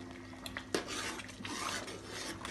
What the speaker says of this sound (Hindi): ये मैं जल्दी जल्दी मिक्स करूँगी